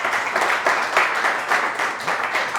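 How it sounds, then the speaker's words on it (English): A close round of applause at a business event, brisk clapping from a modest crowd with a slightly pulsing rhythm, no voices over it. "give her a round of applause"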